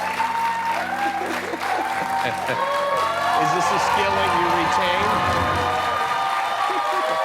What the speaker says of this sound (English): What a weird thing to cheer for.